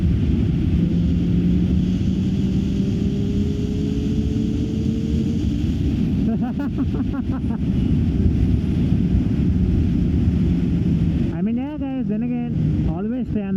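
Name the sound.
wind blast while riding a Street Triple motorcycle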